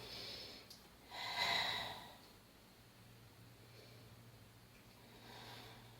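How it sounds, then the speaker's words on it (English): During a core exercise lift, a person exhales in one strong, close breath out, followed by quieter, softer breathing. "when I lift up is when I breathe out"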